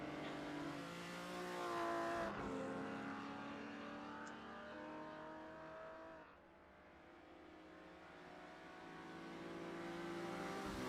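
A 1950s Formula 2 race car on a circuit, its engine howling loud and high, dropping sharply as it brakes, then rising steadily again as it accelerates hard toward the line.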